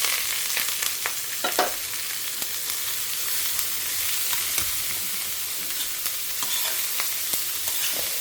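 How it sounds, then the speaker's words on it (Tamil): Mustard seeds, urad dal, chana dal and curry leaves sizzle steadily in hot oil for a South Indian tempering, a constant close hiss broken by small pops and crackles, no talking. "ஸோ நான் பேசிக்கான தாளிப்புகள் போட்டிருக்கேன். கடுகு, உளுத்தம்பருப்பு, கடலைப்பருப்பு"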